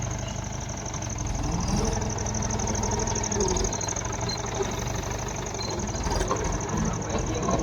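A tractor engine runs steadily through a night of wheat sowing, a close, continuous low throbbing drone with a thin high whine over it and no talking.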